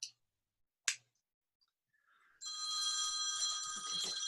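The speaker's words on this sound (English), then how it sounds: "Answer the phone." A telephone rings with a rapid, bright electronic trill that starts after a couple of soft clicks and continues steadily, fairly close and loud, with no one speaking.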